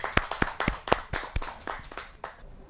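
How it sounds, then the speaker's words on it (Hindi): An audience at a Kavi Sammelan poetry gathering welcomes a poet with a short burst of applause, sharp scattered claps that thin out and fade within a few seconds. "आइए जोरदार तालियों से उनका स्वागत"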